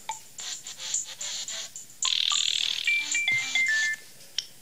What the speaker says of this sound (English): this ringtone is called Bottle Blow